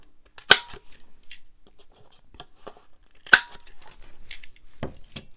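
Scissors cutting paper for a shabby pink botanical junk journal: two sharp, close snips a few seconds apart, with faint paper rustles and small handling clicks between them and no talk.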